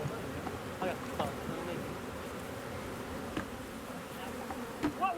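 Honey bees swarm around beehives being readied for transport to California, a dense steady buzz with individual bees whining past close by, while faint voices talk underneath.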